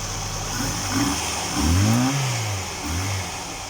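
A Tofaş Doğan 1.6 car engine running on LPG revs up in several swelling bursts over a steady idle, with one strong rise in the middle and a smaller one near the end; no one speaks.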